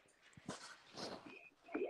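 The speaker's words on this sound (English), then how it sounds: "You can hear my dogs in the background." Faint dogs whimper and yip in the distance, a few scattered short sounds in a quiet room.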